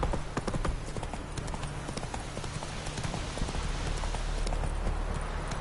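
Horse hooves clip-clop steadily in a continuous rhythm as a rider moves along in The Witcher 3: Wild Hunt, close and even under a low ambient background.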